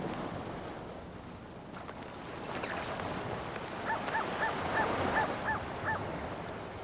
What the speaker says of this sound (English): White-eyed gulls, also found nowhere else.